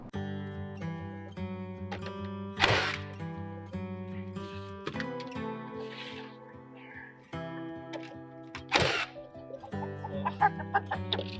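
Chickens cluck continuously and close by, with a couple of louder squawks standing out above the steady flock chatter.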